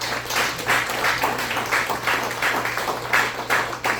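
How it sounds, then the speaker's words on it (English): Audience at a higher education college talk applauds, an even patter of many hands clapping over a steady low hum, moderately loud and fairly close, with little talk. "Stop for a moment and give yourself a round of applause for hanging out with me."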